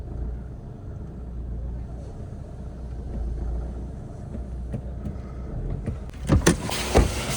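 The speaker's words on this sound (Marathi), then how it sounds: "अशी चढवली नाही कधी मी रे गाडी" A car is driven up onto a car wash ramp with a low, steady engine rumble and a few sharper knocks and clunks near the end.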